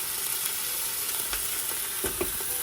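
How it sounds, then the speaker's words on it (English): Chopped vegetables and fruit sizzle and crackle in a hot pan during pozole verde cooking, a steady loud frying hiss with a few stirring clatters near the end. "We're going to add to that all of our chopped up veggies"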